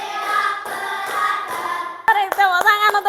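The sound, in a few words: class clapping hands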